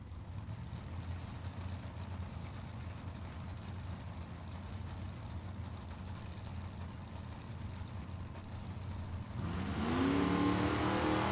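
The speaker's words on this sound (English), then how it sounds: "1969 fastback Mustang for Mark Johns." Drag racing at Tucson Dragway, with a 1969 fastback Mustang, as a steady engine rumble drones in the distance, then swells into a louder, nearer revving roar in the last couple of seconds.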